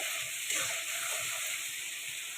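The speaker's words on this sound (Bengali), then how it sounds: "এটা হলুদের গুঁড়া অ্যাড করে দিয়ে এটা একটু মশলা পেঁয়াজ একটু চিংড়ি মাছের সঙ্গে একটু ভাজতে থাকুক" Shrimp fry in a pan with turmeric powder, spices and onion, giving a soft, steady sizzle with faint hiss throughout and no talking.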